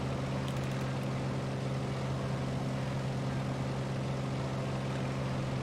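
Spartan 7W Executive vintage aircraft engine in Microsoft Flight Simulator, heard from outside: a steady, loud clattery drone with a constant low hum and no speech.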